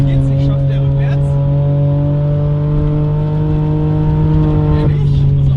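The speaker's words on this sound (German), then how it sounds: "Warum fährst du eigentlich rückwärts?" Car engine idling and reversing slowly with windscreen washer fluid in the engine, a steady loud hum with a strong low drone and overtones, a brief shift near the end, voices talking over it.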